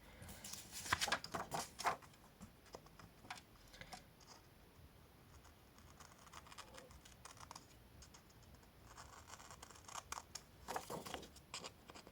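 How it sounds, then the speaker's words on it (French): Scissors cut through material while making easy tab edgings, quiet close snips and clicks clustered at the start and again near the end, with softer rustling in between and no talk. "Je vais couper au ciseau."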